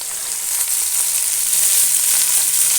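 Spinach, amaranth and coriander greens hit a hot pan for vegetable sambar, giving a loud, steady hiss and sizzle that continues throughout with no voices.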